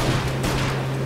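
Gunfire in Mafia Definitive Edition: a dense, loud burst of shots over a steady engine drone, short and continuous.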